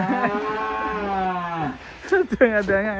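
A giant cow moos once, long and low, close by; people then talk over short grunts and a second rising call.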